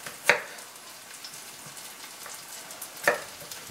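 Onions frying in a sauté pan give a faint, steady sizzle, broken by a couple of sharper clinks or stirring knocks, close by and quiet, with no voices.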